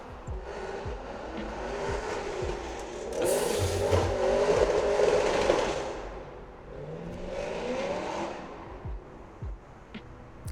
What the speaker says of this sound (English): That doesn't even sound like a nice motorcycle